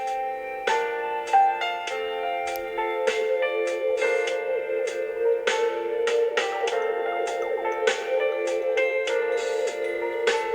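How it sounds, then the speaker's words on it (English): Clear, bright metallic chimes from a minute repeater watch in an 18k gold case ring out in a series of struck tones, alternating low and high notes at a steady pace, close and delicate. "That's the sound of a minute repeater"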